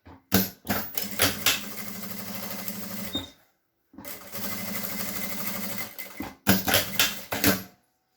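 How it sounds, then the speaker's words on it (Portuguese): A sewing machine stitches a zipper onto a small coin purse, its needle whirring in rapid close bursts, running about three seconds at a time, separated by brief pauses. "A gente vai dar o pé de máquina aqui, com o calcador bem rente"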